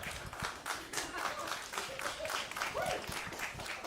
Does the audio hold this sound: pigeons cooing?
no